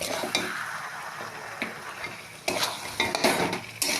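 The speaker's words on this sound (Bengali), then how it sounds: "সব মশলাগুলো ভালো করে দিয়ে নেড়ে চেড়ে নেব" Spoon scraping and stirring lightly fried chicken with spices in a pan, with intermittent sizzling and light metallic clinks; a few sharper scrapes stand out near the end.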